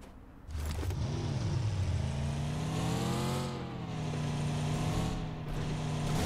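A car engine in the video game PUBG Mobile starts up and revs, rising and falling in pitch as it accelerates, loud and close throughout.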